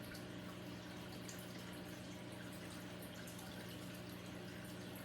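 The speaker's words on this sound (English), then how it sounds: "But I really like that bubble wall, folks." Aquarium bubble wall in a 10-gallon Top Fin tank gives a constant, faint, even bubbling hiss with a low pump hum beneath it, steady throughout.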